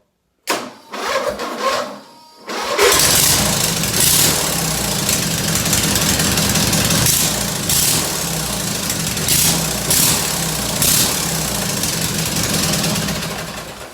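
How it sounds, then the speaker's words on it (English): A small lawn mower engine on an off-road mower idles briefly, then roars up as the throttle opens and keeps running loud and steady, with slight rises and dips in pitch. "as soon as I hit the throttle there, you can see that the engine revs exactly with the throttle"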